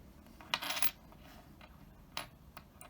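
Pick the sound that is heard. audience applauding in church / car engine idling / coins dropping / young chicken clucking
coins dropping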